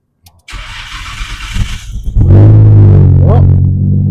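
A Nissan Skyline R33 GTR engine, freshly fitted with a Nismo high-flow fuel pump, cranks briefly and then catches, settling into a loud, steady idle that fills the rest of the moment close by.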